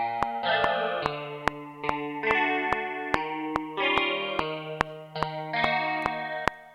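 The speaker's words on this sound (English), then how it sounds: "this is the guitar with plugins" Guitar recorded in iOS GarageBand through effect plugins with chorus and distortion, steady chord phrases over a sharp, regular clicking beat, loud and clean with no voice.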